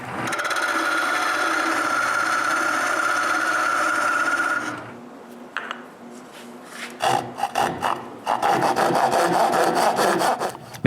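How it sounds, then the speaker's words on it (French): Steady rasping of a hand saw making a first cut in wood for a wooden cryptex, then a pause and a run of quicker, choppy back-and-forth strokes, close up. "je fais la première coupe à scie à main"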